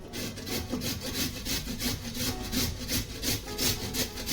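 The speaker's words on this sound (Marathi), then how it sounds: "हे किसून घेते बघा बारीक चांगलं" Amla (Indian gooseberry) being grated finely by hand in a kitchen, a steady rhythmic rasping scrape repeating about twice per second, close and fairly loud with no talking.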